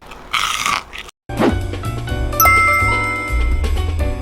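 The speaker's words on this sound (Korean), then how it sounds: "바삭한 소리가 납니다" A sharp crunchy bite into crispy fried sweet potato, followed by a short silence and then chiming background music with a few more soft crunches.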